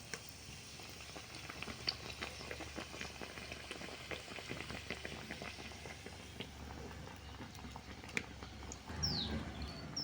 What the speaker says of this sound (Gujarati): હવે હું આ તેલમાં પકોડો બનાવું છું.